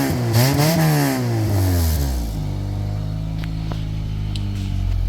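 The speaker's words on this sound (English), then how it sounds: "Major exhaust leak." A 1999 Honda Accord engine with a major exhaust leak revs up and drops back to a rough, rumbling idle, close and loud, with a raspy, blatty edge.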